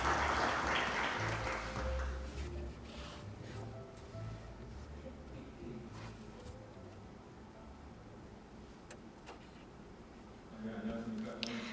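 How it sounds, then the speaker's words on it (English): Conference audience applause rings out loud at the start, then settles into a low, scattered murmur of claps and room noise before a brief rise again near the end. "Please welcome him with a big round of applause."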